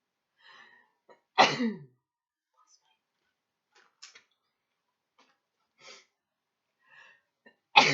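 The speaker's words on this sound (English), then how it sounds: "now I'm going to sneeze" One sharp sneeze bursts out near the start, followed by a long quiet stretch with faint small sounds and a second loud burst at the end.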